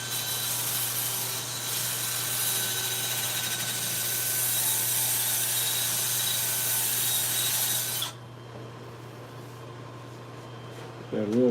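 A wooden bowl spins on a lathe while being sanded, producing a loud, steady whirring rub with a constant motor hum that stops abruptly partway through, leaving a quieter hum.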